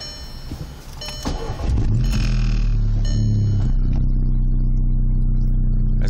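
A warm car engine fitted with a BSH TSI engine mount cranks and starts, heard from inside the cabin, rising from clicks and starter whir into a loud, steady idle that continues to the end.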